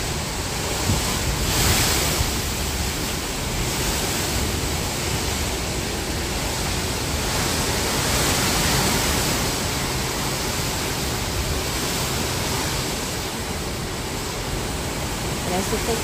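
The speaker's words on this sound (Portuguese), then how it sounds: "Parece até que eu tô escutando o barulho de trem, mas é o vento." Strong wind during Hurricane Ian roars as a loud, unbroken broadband rush, steady and dense for the whole stretch with slight swells in intensity, with a voice faintly present beneath it.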